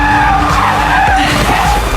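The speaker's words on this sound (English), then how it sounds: "When the truck rams into her, Daisy drifts to the roadside." Car tires skid and squeal loudly as the car drifts to the roadside in a movie chase scene, one sustained screech over engine roar, close and dominant throughout.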